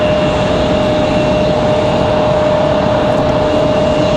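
Frontier airliner taxiing at Raleigh Durham airport, a steady broadband engine roar with a constant whine sustained throughout, loud and close with no voices.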